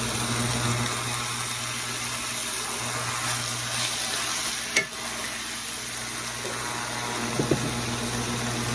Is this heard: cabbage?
yes